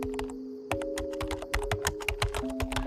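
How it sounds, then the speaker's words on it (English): Computer keys are mashed hard and fast at an office cubicle, producing a dense, close, rapid clatter of sharp clicks over a faint steady electrical hum. "The typing was fast, really fast, like someone was just mashing keys as hard as they could."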